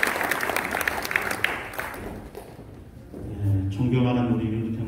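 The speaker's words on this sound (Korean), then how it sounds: "박수로 한번 격려하겠습니다" Applause at a Korean Presbyterian church general assembly installation ceremony, a broad clapping wash in the first seconds that fades out as talk and a tonal voice take over.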